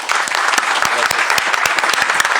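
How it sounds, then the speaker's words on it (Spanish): Steady, loud applause fills a hall at a legal lecture in Veracruz, with sharp individual claps standing out from the dense crowd sound throughout. "les pido un caluroso y fuerte aplauso"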